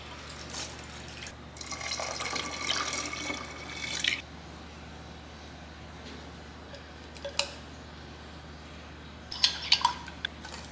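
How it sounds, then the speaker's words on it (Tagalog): Water poured while cooking in a home kitchen, heard as a bright splashing stream from about one to four seconds, with a few shorter splashes and clinks later over a steady low hum. "Dito ko lalagay yung tubig"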